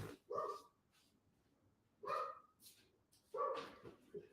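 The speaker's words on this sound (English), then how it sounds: "Making my dogs bark." Three loud bursts of dog barking come close by at a steady spacing inside a garage, with short yips between the bursts and nobody speaking.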